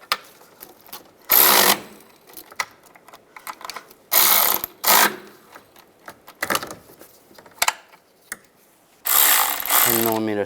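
Hand ratchet tightening two bolts on a bracket in the engine bay of a 2007-18 Jeep Wrangler, close up, with bursts of fast clicking ratcheting separated by short pauses and quieter handling sounds.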